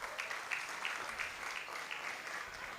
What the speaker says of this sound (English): A round of applause for our farmers here